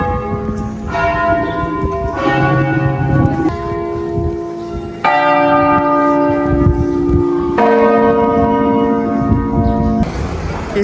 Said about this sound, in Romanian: toată ziua au bătut așa clopotele